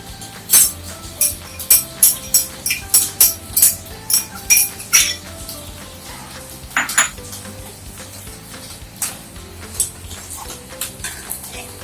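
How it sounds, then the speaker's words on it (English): A spoon scrapes and clinks repeatedly against a pan while gram flour is sauteed over a low flame, a quick run of sharp metallic taps followed by sparser knocks, with no one talking. "Now we have to saute our gram flour at a low flame."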